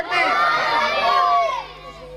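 A large crowd in a religious procession raises a loud, sustained chant of slogans, many voices blending into a continuous roar, up close and fading slightly at the end.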